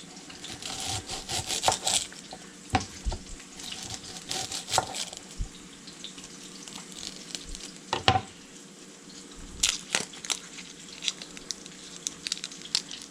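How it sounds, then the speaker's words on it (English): A knife slices through a young onion on a cutting board, with irregular crisp cuts and taps, some sharper chops standing out among softer scraping strokes, close and fairly quiet. "The next part is you're going to slice your onion."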